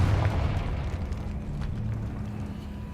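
A Confringo blasting spell explodes in a Harry Potter video game: one deep, loud boom at the start that rumbles and slowly fades away with no speech.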